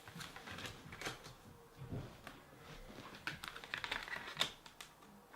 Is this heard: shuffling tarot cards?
yes